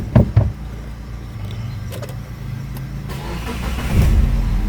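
A Suzuki R3 car engine cranks and catches with a couple of sharp bursts, then settles into a low idle before the revs climb again near the end.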